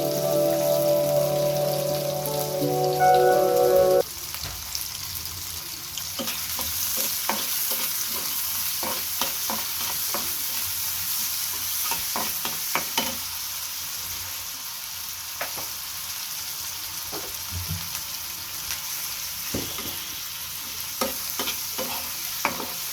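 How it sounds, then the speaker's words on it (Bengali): Onions frying in hot oil in a pan for a Bangladeshi fish bhuna, a steady close sizzle broken by repeated scraping stirs with no talking. "এখন আমি পেঁয়াজ দিয়ে দিচ্ছি, যেহেতু এটা পেঁয়াজ দিয়ে ভুনা"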